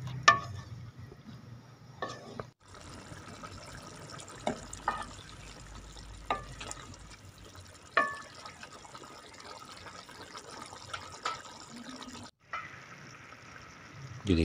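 Water is poured into a pan of simmering sweet potato (shakarkandi) curry, a soft steady trickle with occasional drips and clinks, fairly quiet and close, with no talking.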